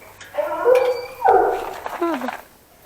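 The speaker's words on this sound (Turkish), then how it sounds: "Anadolu çoban köpeği Duman." A large Anatolian shepherd dog gives a few drawn-out, whining howls and yelps, close by, in three separate bursts.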